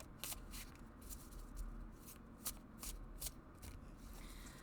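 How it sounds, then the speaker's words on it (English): Tarot cards are shuffled by hand nearby, quiet crisp riffling and flicking bursts repeating irregularly over a soft background hum. "So you could do the rifle shuffle, the overhand shuffle,"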